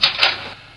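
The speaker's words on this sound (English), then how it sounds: "Now I'll give you an example of the ice cracking." An ice cracking sound effect: two sharp, bright clicking snaps in quick succession, then a short fading tail, close and dry.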